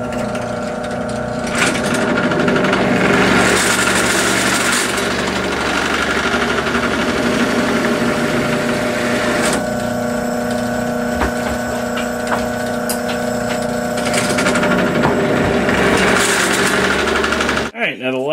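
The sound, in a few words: drilling holes with half-inch drill bit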